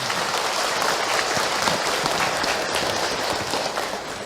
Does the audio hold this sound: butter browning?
no